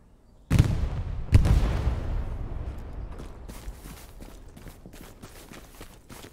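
Two heavy booming explosions in the World War II video game Hell Let Loose go off close together, each rolling into a long fading rumble, followed by scattered distant crackles.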